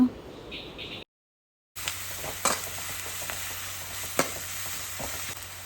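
Onion and ginger fry in a pan with a continuous sizzle, interrupted by a brief silent gap, with occasional spatula knocks and stirring scrapes near the mic.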